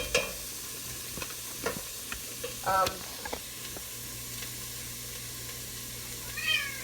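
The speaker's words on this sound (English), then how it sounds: "we're just going to let that cook for a couple minutes until the onions start to get soft" Onions cooking in a pot for chicken noodle soup give a faint, low sizzle under sharp clinks and stirring scrapes, with a cat meowing close by in short bursts.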